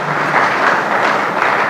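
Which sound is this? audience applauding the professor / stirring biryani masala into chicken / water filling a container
audience applauding the professor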